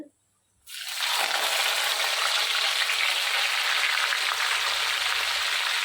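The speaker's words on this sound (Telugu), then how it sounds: "పచ్చిమిరపకాయలు, కొంచెం వేగనివ్వండి" Mustard seeds, cumin, chopped onions and green chillies sizzle and crackle loudly in a hot pan, bursting in after a brief silence and holding a steady, dense frying hiss throughout.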